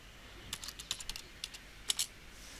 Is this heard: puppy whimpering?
no